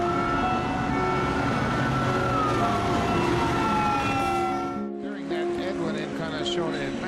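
An ambulance siren wails through heavy traffic as motorcycles clear its path: continuous rising and falling tones over a dense road rumble, briefly dipping around the five-second mark before resuming.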